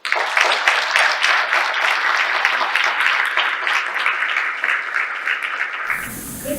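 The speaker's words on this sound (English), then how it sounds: "So please welcome Ms. Poharian with a very warm round of applause." Warm audience applause welcoming a speaker at a talk on the Azerbaijan-Armenia conflict, a loud, dense, continuous clapping from a crowd that cuts off abruptly near the end.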